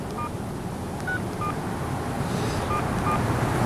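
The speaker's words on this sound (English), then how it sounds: "get ready to dial" A sequence of short touch-tone telephone dialing beeps sounds over steady wind and background rumble, several spaced tones in an uneven rhythm with no talk.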